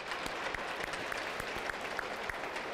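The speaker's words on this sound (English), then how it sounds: "Round of applause from the crowd" Steady applause from a sizable crowd at a 16U junior ice hockey game, continuous clapping with no talking over it.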